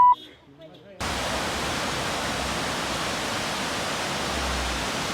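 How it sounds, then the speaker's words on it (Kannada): A small waterfall on a hillside trail, a steady loud broadband rush of falling water that cuts in abruptly after a brief quiet moment with faint voices. "ಸಣ್ಣ ಫಾಲ್ಸ್"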